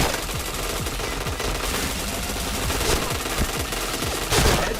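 Rapid automatic gunfire from the shooter video game PointBlank rattles in dense, continuous bursts with sharp repeated shots and a louder volley near the end.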